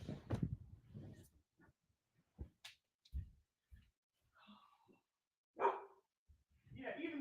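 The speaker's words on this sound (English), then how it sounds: "even the dog is barking" A dog barking outdoors, a few short separate barks at a distance among quiet gaps, with people talking faintly in between.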